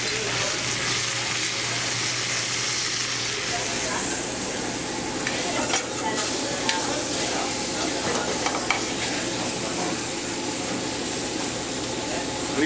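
A pork chop and its trimmed fat sizzle steadily in a hot skillet, a dense crackling hiss with occasional pops and faint stirring, under a low hum.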